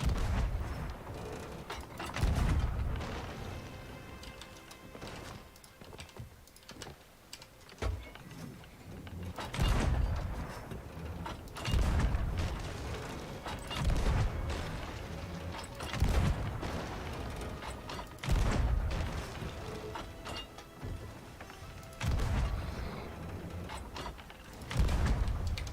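Cannons fire in a pirate video game, with heavy booms repeating every few seconds over creaking ship sounds and background game noise.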